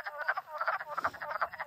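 Wood frogs in a forest pond in spring, croaking in a quick, clucking chorus of short, rapid pulses, several calls overlapping at moderate distance.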